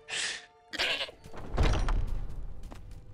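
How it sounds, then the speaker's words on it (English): Goats in the video game Skyrim give two short, close bleats one after another, followed by a dull thud and low rumbling game ambience. "Oh, the goats."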